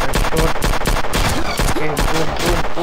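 Rapid automatic gunfire from the video game Sierra 7, loud and continuous with rhythmic bursts and mechanical clatter, while a voice talks over it.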